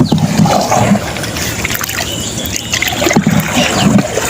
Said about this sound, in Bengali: আবার চললো আমাদের নৌকা।